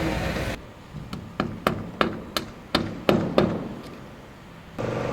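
A roofing crew hammers wood batten strips onto a tile roof, about nine sharp, close hammer blows in an irregular rhythm over steady background noise.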